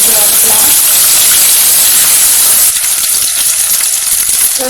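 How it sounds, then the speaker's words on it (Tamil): Shallots sautéing in a pan with curry leaves and two green chilies, giving a steady loud sizzle and hiss throughout that eases slightly partway through, with no talking. "கொஞ்சம் கருவேப்பிலை, 2 பச்சை மிளகாய் போட்டு முதல்ல வெங்காயத்தை கொஞ்சம் வதக்கலாம்."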